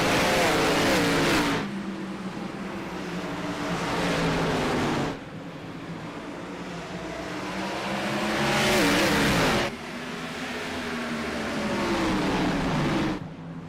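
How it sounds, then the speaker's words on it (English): Several race cars at Nashville Fairgrounds roar loudly off the start, their engines revving hard and swelling in waves as the pack accelerates past, with no talk over them. "Barney with the flag in hand gets the command, and we're racing from Nashville Fairgrounds"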